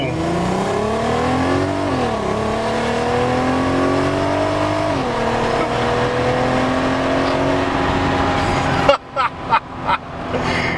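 A VW Golf R32 engine hums steadily with rising and falling pitch, then near the end gives several sharp, loud revs in quick succession.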